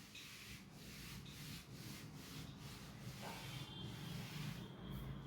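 An eraser rubs writing off a classroom board in steady, repeated back-and-forth strokes, a close, soft scrubbing with no voices.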